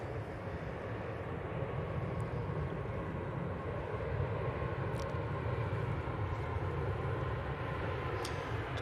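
Ryanair jet airliner at Manchester Airport, a distant, steady engine rumble and hiss holding level throughout, with a few faint clicks.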